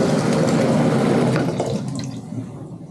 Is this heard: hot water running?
yes